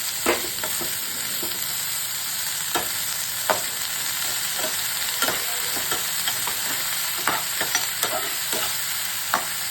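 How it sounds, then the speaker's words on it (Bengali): Prawns and pumpkin flowers fry in a pan with a steady broadband sizzle, broken by scattered clinks and scrapes of a stirring utensil through the whole stretch; no voices. "সাইডে একটু কুমড়ো ফুল দিয়ে দিচ্ছি ভাজার জন্য, একসঙ্গে মিক্স করবো"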